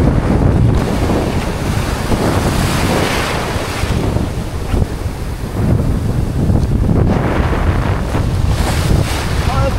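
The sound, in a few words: wind blowing at sea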